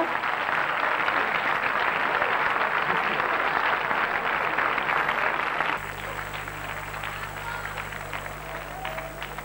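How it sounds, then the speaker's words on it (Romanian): An audience at the Mamaia Festival in 2003 applauds the winners with steady, dense clapping that fills the hall, then fades into quieter clapping with a low hum underneath. "Haideți să mai aplaudăm o dată pe câștigători."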